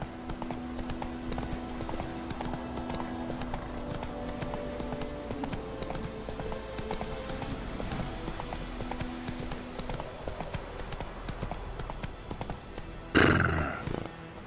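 Steady clip-clop of a horse's hooves at a trot in The Witcher 3 video game, close and rhythmic over faint ambient game sound, ending in a brief loud burst.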